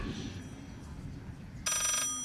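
A brief burst of electronic telephone ringing in the horror game Layers of Fear cuts in near the end, loud over a low muffled background rumble.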